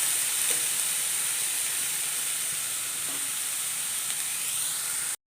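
Shredded jackfruit with grated coconut cooks in a pan for a Kerala thoran, giving a steady soft hiss and sizzle with faint stirring, close and unbroken until it cuts off abruptly at the end.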